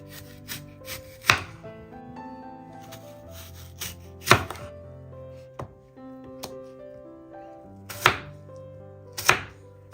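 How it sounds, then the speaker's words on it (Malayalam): A knife chops a washed medium-sized apple into small pieces on a board, each sharp chop knocking out clearly and alone at an uneven pace over a quiet background. "ഇതുപോലെ ചെറിയ കുറച്ച് വലിപ്പത്തിലുള്ള കഷ്ണങ്ങളാക്കി കട്ട് ചെയ്തെടുക്കാം."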